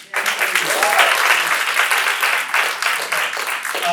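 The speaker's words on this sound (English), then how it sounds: "I'm going to need a round of applause, please" An audience at a business training event breaks into dense, sustained applause, loud and close, with clapping continuing steadily throughout.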